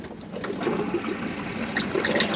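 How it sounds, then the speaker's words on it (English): Fresh water flushing into a motorhome toilet on a 2017 Auto Trail Apache 700, with the pump running to push it through; a steady, close trickle and gush of water with small splashes, no talking. "press the blue button, which is your fresh water flush, ensuring that the pump's on to bring the water through"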